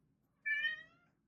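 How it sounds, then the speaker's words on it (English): A pet cat gives a single clear, close meow lasting about half a second, tapering off, against a quiet indoor background. "Sorry, that's my cat."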